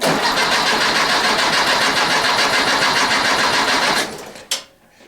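A running old Volkswagen engine with a steady, rapid mechanical lifter ticking that continues for about four seconds, then cuts off abruptly, followed by a brief clank and silence.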